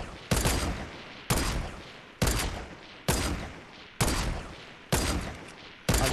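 Sharp, loud gunshots from Fortnite sniper rifles and revolvers, seven shots spaced roughly one second apart, each a hard crack with a decaying tail, with no talking.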